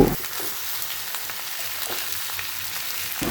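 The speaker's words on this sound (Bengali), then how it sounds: "এবার সব কিছু একসাথে ভালো করে ভেজে নেব" New potatoes and peas fry with spices and yogurt in a pan, giving a steady, close crackling sizzle with no voices.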